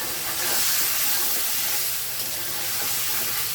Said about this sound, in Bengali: এবারে আমি চিংড়ি মাছগুলো তেলের মাঝে ভেজে নেব এক এক করে।